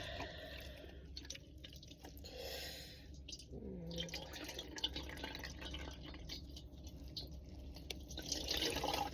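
Hot water runs and drips from a tap inside a van, a quiet, uneven trickle with patters and splashes building slightly toward the end, no speech.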